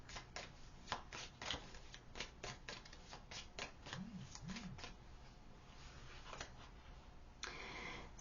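Playing cards shuffled for a pick-a-card tarot-style reading, a close run of quick riffling flicks and taps in an irregular rhythm, fairly faint, with a low murmur of voice briefly underneath.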